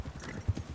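A horse in Red Dead Redemption 2 clip-clops along at a walk, a quick run of close hoof knocks in an even rhythm over a brief stretch.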